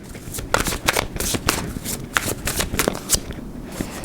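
A deck of tarot cards is shuffled close by in a rapid run of crisp, fluttering riffles and slaps, repeating steadily with no talking over it.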